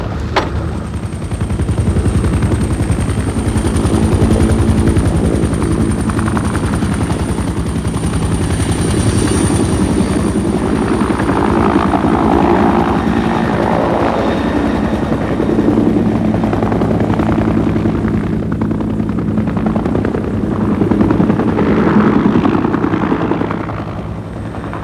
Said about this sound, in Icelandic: Þyrluferð á Grænlandi mikið sjónarspil vegna stórkostlegs landslags